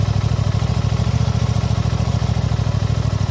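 An Aprilia Tuono 660 Factory motorcycle engine idles steadily up close, a dense, regular low-pitched throb pulsing quickly and evenly throughout with no voices over it.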